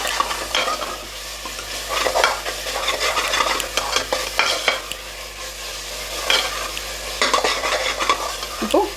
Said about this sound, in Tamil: ஸோ இப்போ நல்லா இதை கலந்து விட்டுருங்க.